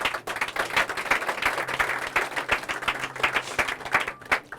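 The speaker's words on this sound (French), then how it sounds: "Est-ce que tu peux acclamer Jésus?" A church congregation breaks into steady applause and clapping, dense and continuous for several seconds with scattered sharper claps, some cheering mixed in, no speech over it.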